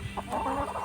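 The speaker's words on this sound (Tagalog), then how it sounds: "Ayan po ang aking mga manok." Chickens on a small farm cluck in a quick, close burst of a few short calls lasting under a second.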